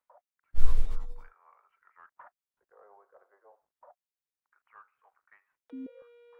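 A brief loud burst, then faint chatter and beeps, ending with a short electronic telephone ring tone near the end, in the video game Operator 911.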